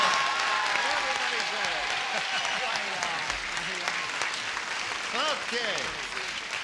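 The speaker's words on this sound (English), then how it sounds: "She's applauding" A TV game show studio audience claps in a sustained burst of applause while voices talk and exclaim over it.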